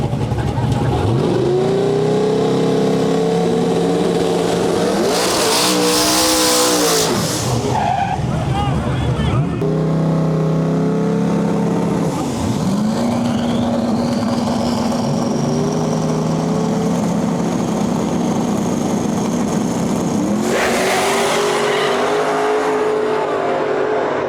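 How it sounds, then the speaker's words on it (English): Roaring engines at a street race between a 427 twin-turbo Chevrolet Colorado and a Fox body, with loud revving, rising acceleration sweeps and tire squeal on a sketchy surface while a commentator talks over the action. "We got that little 427 twin turbo Colorado pulling up far side, and we got a Fox body in our lane here."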